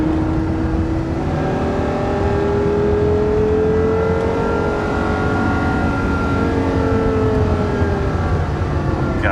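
Porsche Carrera GT engine pulling hard on a wet track, a loud, steady high-pitched wail with rising harmonics that sweep gradually through the run, up close and alone without talk.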